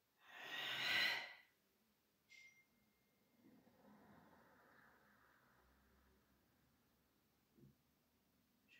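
A single deep breath drawn in during a slow Kitai So stretching exercise, loud and close at the start, followed by quiet room tone with a few faint soft knocks.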